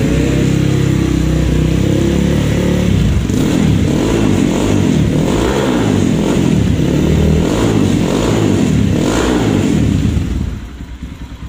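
A modified 2021 Kawasaki KLX D-Tracker motorcycle engine is revved repeatedly, loud and close, with rising and falling throttle blips over a steady idle that drops away at the end.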